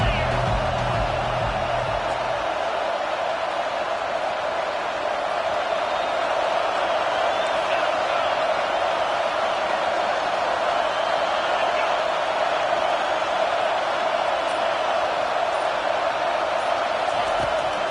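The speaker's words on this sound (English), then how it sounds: "This crowd bringing the energy and noise early." Football stadium crowd at a TCU vs Texas A&M college game roars steadily after a sack, a dense sustained wash of cheering and noise filling the whole stretch without a break.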